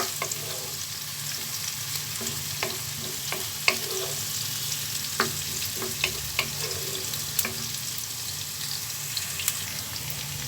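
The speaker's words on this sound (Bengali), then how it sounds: "পেঁয়াজ কুচি অ্যাড করে এটাকে একটু হালকা লাল লাল করে ভেজে নেব" Two large chopped onions fry in a pan as curry ghugni with mutton and chickpeas is cooked, giving a steady, close sizzle with occasional sharp pops and crackles throughout and no talking.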